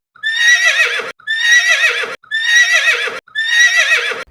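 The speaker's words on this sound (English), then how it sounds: "Next, let's see horse. It's a beautiful brown color horse. Horse says." A brown horse neighs four times in a row, each whinny loud, close and quavering, about a second long, separated by brief silences.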